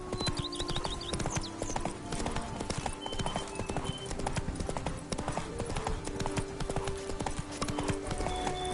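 Horse hooves clip-clop steadily in The Witcher 3 on PS5, a continuous rhythmic trot close by amid game music and ambient layers, with a brief whinny.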